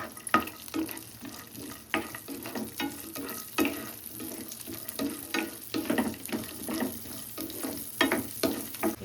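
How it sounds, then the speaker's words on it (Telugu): Cashew nuts frying in hot ghee for carrot kheer and beetroot halwa, a soft continuous sizzle with irregular stirring scrapes and clinks of a spoon in the pan, fairly quiet and close, without speech. "ఇప్పుడు నెయ్యి వేడయింది కండి, జీడిపప్పు వేయించుకున్నాము."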